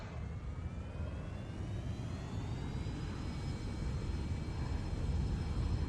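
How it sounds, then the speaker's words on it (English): A Cirrus Vision Jet's engine spools up in X-Plane 11, a steady, close, rising whine over a broad roar that swells gradually as throttle increases, with no talk. "Alright, we are in the Vision Jet. Everything looks good. Throttling up, brakes off."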